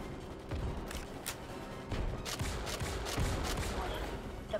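Rapid gunfire in the video game Starship Troopers: Extermination, muffled bursts and distant-sounding volleys layered over a busy battle din.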